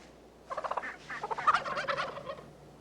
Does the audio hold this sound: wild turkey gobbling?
yes